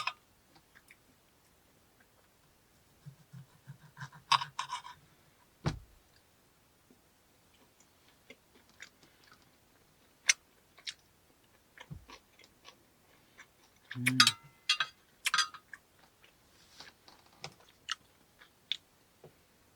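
Someone eats fried food with jalapeño, with close, quiet crunchy bites and sporadic chewing clicks scattered over a near-silent background.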